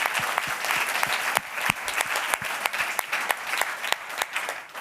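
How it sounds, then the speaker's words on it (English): An audience at a live tech pitch competition finale applauds the contestants, many hands clapping loudly and continuously with sharp individual claps standing out, sustained for several seconds. "Let's give them a round of applause, everybody, again."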